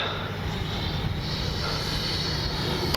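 An FMS Avanti S 90mm EDF radio-controlled jet flying overhead with a steady, loud ducted-fan roar and whine that holds for the whole stretch, heard alone outdoors.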